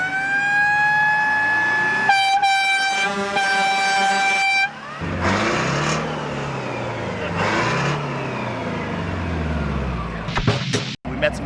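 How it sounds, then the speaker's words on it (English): A vehicle fitted with working horns and sirens, driven at an off-road overland event, sounds loud, steady horn blasts up close and then a rising and falling siren wail that keeps going, with a few sharp bursts near the end. "You get the sirens, the horns, all the stuff works on it."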